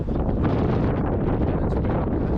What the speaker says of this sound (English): it's just unfortunate it's so windy today for the audio